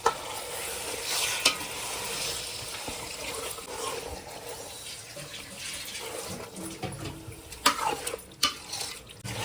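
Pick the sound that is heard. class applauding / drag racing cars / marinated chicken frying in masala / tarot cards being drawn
marinated chicken frying in masala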